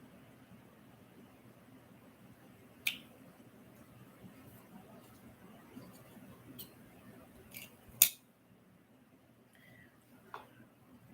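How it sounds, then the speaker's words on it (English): Scissors trimming, heard as a few sharp isolated snips spaced seconds apart over a quiet room background, one notably louder near the end. "this one I need to trim, and this one I need to trim"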